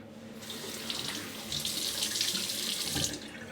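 Tap water runs steadily into a sink for a post-shave rinse, a soft, close, continuous splash that swells slightly midway and then stops.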